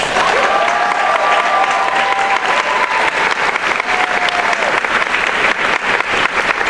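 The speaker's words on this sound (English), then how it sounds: "Let's give them all a round of applause." A convention gala crowd claps for honorees from campuses, loud, dense and sustained applause filling the whole stretch, with a faint tone ringing beneath it early on.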